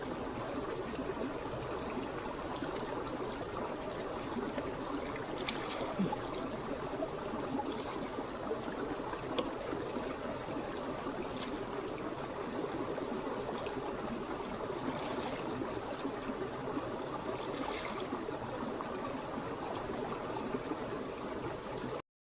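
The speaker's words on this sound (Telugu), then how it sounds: "ఇప్పుడే కడిగేసి మొత్తం తెస్తాము ముల్లంగిలన్నీ" Steady running water pours and splashes while red radishes are washed outdoors, a constant moderate wash with occasional faint clinks, no talking.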